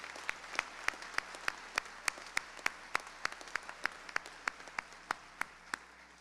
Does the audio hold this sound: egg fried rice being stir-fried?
no